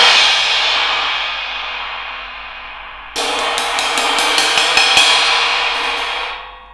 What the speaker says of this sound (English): This is how it sounds without the FX.